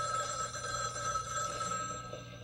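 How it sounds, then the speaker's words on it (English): An old landline telephone bell rings continuously in a quiet room, a steady metallic trill with no voices over it. "Your phone's ringing."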